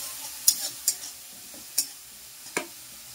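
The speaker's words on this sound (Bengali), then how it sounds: "এরপর দেবো হলুদ, ভালো ভালো করে এগুলো কষাবো" Spices with turmeric sautéed in a pan for a soybean and chana dal dish, a low sizzle broken by about five crisp clinks and scrapes of the spoon against the metal.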